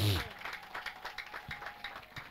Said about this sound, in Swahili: Pigia Yesu makofi mazuri kabisa.